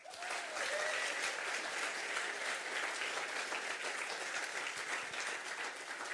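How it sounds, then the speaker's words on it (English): A large audience at a science communication competition final in London gives a standing ovation, with dense, sustained clapping and light crowd murmur throughout. "And deserving an H2 ovation, a Kazakh standing ovation, Ayman Temirova."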